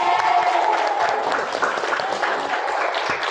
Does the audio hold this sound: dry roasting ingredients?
no